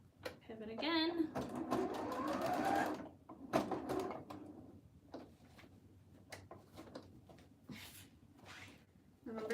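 A sewing machine stitches a surgical scrub cap in quiet, intermittent runs, with a person talking over and between the short stitching bursts.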